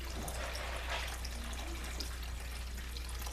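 Muddy water carrying suspended clay particles being poured out, a soft continuous trickling and splashing over a low steady hum, fairly close and moderately quiet throughout.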